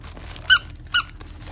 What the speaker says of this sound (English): It's a ball. Squeaky ball.